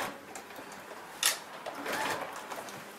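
Sewing machine back tacking a seam on a ladies' skirt panel near an opened zipper: a soft, close mechanical whir of the needle running, with a brief sharp click partway through and no talk.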